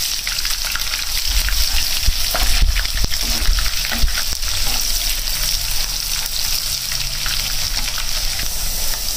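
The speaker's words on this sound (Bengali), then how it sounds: "পেঁয়াজগুলো সুন্দর করে ভাজা হয়ে গিয়েছে" Onions fry in hot oil with bay leaf, cardamom, cloves and cinnamon for a shop-style chicken pulao, giving a steady, close, broadband sizzle with occasional faint stirring clicks and no talking.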